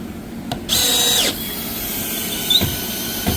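A power drill drives a screw into a kitchen cabinet during a white kitchen remodel: a short near, loud whirring burst of about half a second, followed by a few sharp knocks and quiet room noise.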